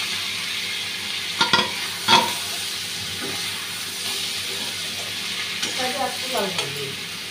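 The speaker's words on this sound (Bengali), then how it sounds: "এখন লাল লাল করে ভেজে রেখেছি আলুটা আর চিংড়ি মাছগুলা দিয়ে দিচ্ছি" Fried potatoes and shrimp dropped into sizzling spiced masala in a pan, with a steady frying hiss, a couple of clattering thuds early on and scraping stirs near the end.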